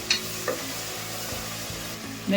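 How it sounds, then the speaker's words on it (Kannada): Onion paste frying in oil in a pan for a quick lunchbox rice dish, a steady low sizzle with a few light stirring scrapes and clinks, close and alone with no talk. "ಎಣ್ಣೆಯಲ್ಲಿ ಈರುಳ್ಳಿ ಪೇಸ್ಟು ಎಲ್ಲ ಚೆನ್ನಾಗಿ ಫ್ರೈ ಆಗಬೇಕು"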